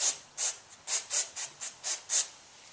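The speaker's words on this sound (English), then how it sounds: "what I do is I like to get a little bit of contact cleaner," Contact cleaner sprays onto the axle of a Losi 810 RC car in about nine short, sharp hissing bursts at an uneven rhythm, close and fairly quiet.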